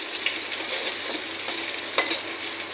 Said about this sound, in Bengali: পেঁয়াজটা একটু হালকা করে ভাজা করে নিই।